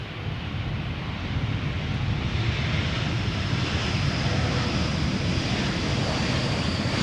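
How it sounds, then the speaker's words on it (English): An Air France Airbus A321 arriving at Schiphol Airport from Paris Charles de Gaulle produces a steady, broad jet engine roar that builds slightly and holds, with some wind buffeting on the microphone. "Air France A321 flight 1444 arriving from Paris Charles de Gaulle"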